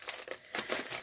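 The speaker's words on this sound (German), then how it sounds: "Da ist die Tüte geplatzt." A plastic bag of diamond painting stones bursts open, with close, quiet bursts of crinkling and rustling that come in uneven clusters.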